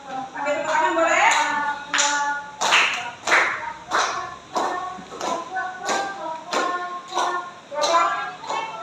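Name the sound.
clapping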